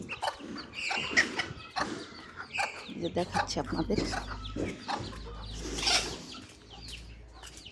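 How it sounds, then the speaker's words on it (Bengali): Chickens cluck and squawk close by at a village home in a busy, uneven chorus, with a person talking briefly among them. "এগুলো হচ্ছে আমাদের মুরগি আর দুষ্ট আছে আমার সাথে এই আমাদের মুরগি"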